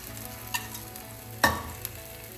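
Rava dosa batter cooks in a pan over a low flame with a quiet, steady sizzle, broken by a few sharp utensil clicks and taps.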